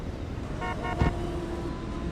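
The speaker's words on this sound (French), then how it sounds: "Ah, ils ont klaxonné." A car horn in a Roblox tornado-chasing game gives two short toots, followed by a brief thump, over a steady background rumble of game noise.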